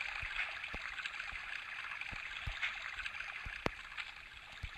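Water flows steadily in the video game Survivalcraft, a soft continuous stream hiss with scattered faint clicks and taps over it.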